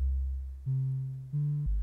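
Low pure sine-wave tones from the oscillator of an Arturia Minibrute 2S synthesizer, stepping between a few sustained pitches in short held notes, clean and steady.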